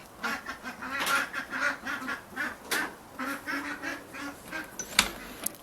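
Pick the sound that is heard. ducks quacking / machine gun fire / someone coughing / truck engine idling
ducks quacking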